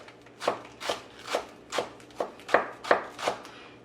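A knife finely chops scallions on a board for a jerk marinade, giving about nine evenly spaced, crisp strokes in a steady rhythm, close up with no talk.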